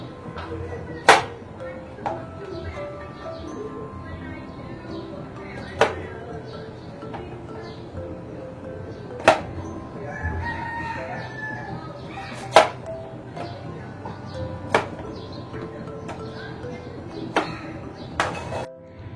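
Vegetables being chopped for a lunch salad, sharp knife strikes on a board landing every second or two, crisp and close against a quiet kitchen background.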